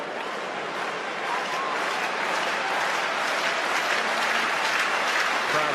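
Dense, steady roar of a football stadium crowd cheering during an international match against England, loud and continuous throughout with no break.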